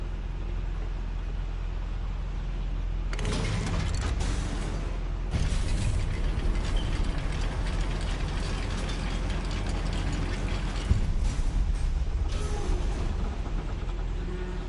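A goblin mine lift mechanism in Hogwarts Legacy grinds and ratchets steadily, with clicking gear-and-pawl creaks that swell louder after a few seconds and keep running continuously, with no voices.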